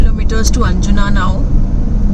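Cars and motorbikes move along a one-lane road in Goa, making a close, continuous low engine and road rumble while a person talks over it at the start.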